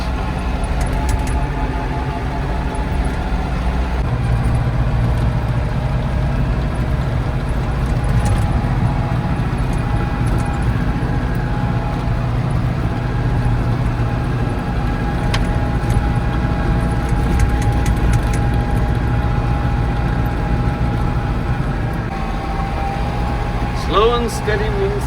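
A four-wheel-drive vehicle with a locking differential grinds up a steep hill through deep snow, its engine droning loud and steady with rattling and creaking from the cab throughout.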